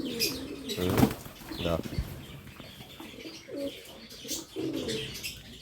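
American fantail pigeons at a pet sale coo softly in short repeated phrases while wings flap in a sharp burst nearby, with someone talking over the birds.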